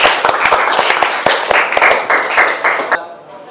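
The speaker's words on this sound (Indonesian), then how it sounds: "Tepuk tangan dulu untuk Jare." A small class of teacher-training students claps for a classmate named Jare, a scattered run of sharp, close hand claps lasting about three seconds before cutting off.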